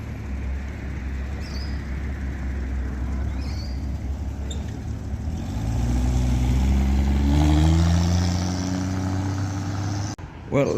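Cars leave a small Sporting Car Club of SA coffee and cars meet, engines rumbling and one revving up as it pulls away nearby, the sound swelling and fading as they drive off, with a voice talking over it.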